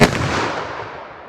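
A single .44 Magnum revolver shot fired into ballistic gel: one loud, sharp report followed by a long, fading boom that rolls off over about a second.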